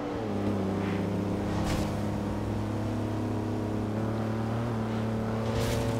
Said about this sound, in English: Really wouldn't know it as a V12 by the sound of it. It's not exactly loud.